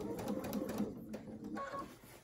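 A sewing machine stitches through three fabric layers of a lined scrub cap in a short burst of rapid, close mechanical chatter that eases off toward the end.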